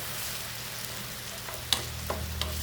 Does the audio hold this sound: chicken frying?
yes